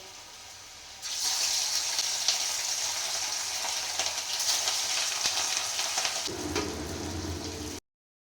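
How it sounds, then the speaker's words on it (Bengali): Fish and potatoes fry in a kadai (wok), a bright, steady hiss of oil that starts abruptly and holds at an even level for several seconds, then cuts off, with no talking. "এখানে আলু ভাজা হচ্ছে, আর এখানে আমি দেখো মাছ ভাজাটা কড়াইতে দিয়ে দেবো"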